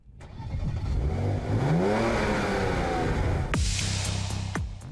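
A Porsche Macan GTS SUV engine revs up hard, climbs and falls in pitch, then snaps out two sharp throttle blips, close and loud, with no talking.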